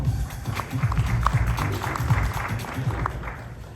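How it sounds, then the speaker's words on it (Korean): An audience at a Korean talk on energy technology claps to welcome a researcher to the stage, scattered, moderately distant applause with irregular individual claps over a low room rumble. "여러분 큰 박수와 함께 맞이해 주시기 바랍니다"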